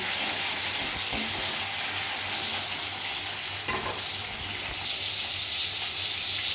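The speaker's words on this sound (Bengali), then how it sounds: "টমেটো দিচ্ছি, এটা ভালো করে নাড়াচাড়া করে নিচ্ছি, একটু টমেটোগুলো ভেজে নিচ্ছি" Chopped tomatoes fry in a pan for a homestyle Bengali fish curry, a steady close sizzle with soft stirring scrapes throughout.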